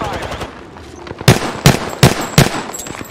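Four sharp, evenly spaced gunshots from a video game match in Apex Legends, close and punchy, following a brief quieter stretch of background game noise.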